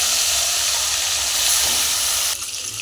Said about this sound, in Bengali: মাছগুলোকে দিয়ে দিলাম, ভালো করে ভেজে নেব।